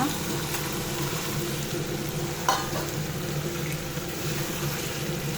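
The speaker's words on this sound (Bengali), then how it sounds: "রান্না করছি এখন রান্না করছি এই যে ডিমের কুরমা" An egg korma cooks in a pot on a home stove, giving a steady low sizzle and simmering bubble that runs through the whole stretch, with a couple of brief clinks and some faint background voices.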